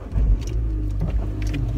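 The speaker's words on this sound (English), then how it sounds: "I think the car was going to start then." A car engine turns over and runs with a low, close rumble, joined by a few light clicks and rattles from inside the car.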